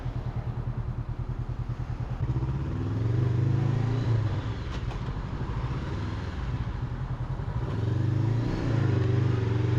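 Honda CBR 500R motorcycle engine idling and revving, a steady low pulsing drone with two rises in pitch and loudness, close and alone without talk.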